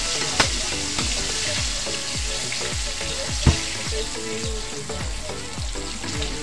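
Chicken backbone and neck deep frying in hot oil, a steady dense sizzle with crackling pops throughout, loud and close with no voices.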